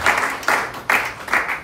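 A church congregation applauds in short rhythmic bursts, about four sharp swells of clapping in under two seconds, loud and close.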